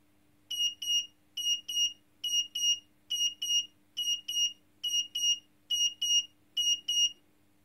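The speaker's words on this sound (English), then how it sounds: "the buzzer made its noise" An electronic buzzer beeps in steady pairs of short, high tones, repeating about ten times over a faint constant hum, with no voices.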